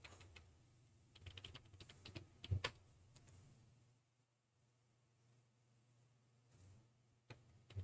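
Computer keyboard keys tapped while entering a search, a quiet cluster of quick clicks over the first few seconds, then near silence broken by a couple of final taps.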